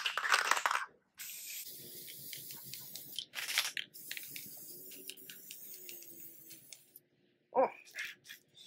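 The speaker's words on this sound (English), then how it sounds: "That's a dangerous spray paint." A spray paint can hisses onto the inner parts of a toy blaster in a few short, separate bursts, with quiet handling and tapping noises between them.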